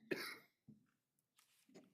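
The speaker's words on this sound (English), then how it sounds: "Sorry, I was coughing." A faint, distant cough during a city council meeting roll call, followed by a few quieter throat sounds and short bursts, all at low volume.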